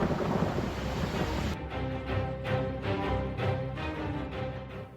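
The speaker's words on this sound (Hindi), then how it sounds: "पहाड़ों पर हो रही मूसलाधार बारिश" Heavy monsoon downpour in the mountains with rumbling thunder, a dense roar of rain and deep rolling rumbles throughout, loud and continuous with no voices.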